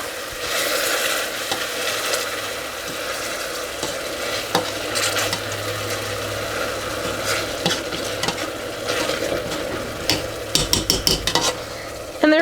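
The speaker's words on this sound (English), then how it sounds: "Alright, I'm going to start mashing my blackberries." Blackberries are mashed and stirred in a hot pan for a marinara sauce, with a steady background sizzle broken by repeated scraping strokes and sharper knocks of a utensil, growing busier toward the end.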